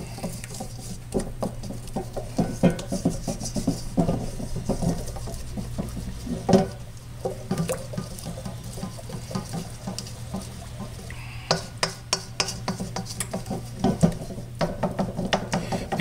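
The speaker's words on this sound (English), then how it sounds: "You can just squish them and keep stirring." Cake glaze stirred by hand in a bowl, a spoon pressing out lumps, giving a run of soft irregular tapping and scraping clicks, close and continuous without speech.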